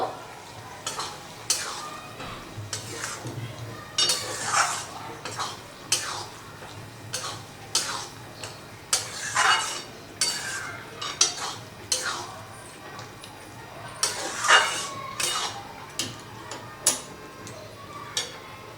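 A spoon stirs egg tadka and spices in a pan, giving repeated close scraping and clinking strokes in an irregular rhythm for the whole stretch, with a light sizzle underneath.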